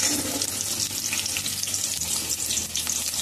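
Chopped onion frying in about three spoons of hot oil with mustard seeds in a kadhai, a steady, close hiss and crackle that continues without a break.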